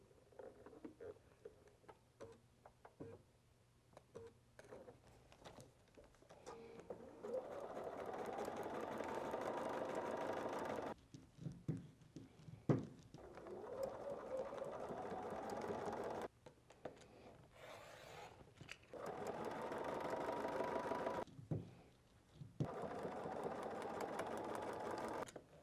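A sewing machine runs in several long steady bursts while stitching foundation-pieced quilt blocks, a close, even whirring hum broken by pauses with small clicks and fabric handling.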